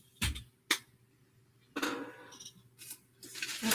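Paper being trimmed at a crafting table, with a few sharp snips and short cutting bursts spread across the moment, fairly close, no talking.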